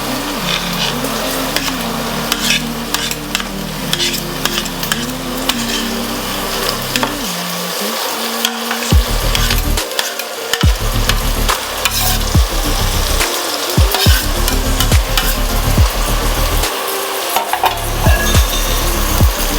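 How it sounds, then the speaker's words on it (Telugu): Onions with ginger-garlic paste frying in a pan, giving a loud, steady close-up sizzle with occasional stirring scrapes and a low background hum. "ఇప్పుడు ఆనియన్స్ అల్లం వెల్లుల్లి పేస్ట్ వేగిపోతుంది కదండి"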